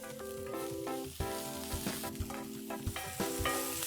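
Onions fry with salt in a hot pan, a loud, continuous sizzle with scraping and clattering as they are tossed and stirred, heard close and alone without any talk.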